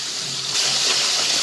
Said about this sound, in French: il ne me reste plus qu'à les rincer pour enlever l'amidon.